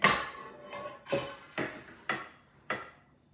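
A deep 3-quart 10-inch saute pan being handled, giving five separate metallic clanks and knocks spaced about half a second apart, close and fairly crisp with no talking.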